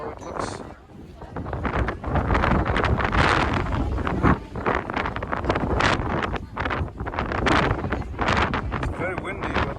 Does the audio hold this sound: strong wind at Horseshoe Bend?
yes